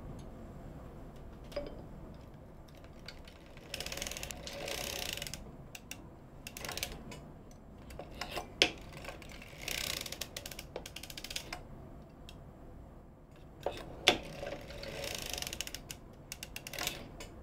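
Circular sock knitting machine being hand-cranked past the toe section of a handpainted sock, giving quiet mechanical clicking and ratcheting with creaks and ticks in bursts, with pauses between turns and no talk.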